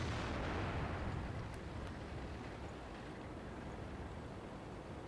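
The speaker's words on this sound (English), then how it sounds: "Oh, and I'm getting shot at by artillery as well" Artillery shells landing around a tank in World of Tanks, a steady roaring rumble with a heavy low boom near the start that settles into a continuous dull battlefield din.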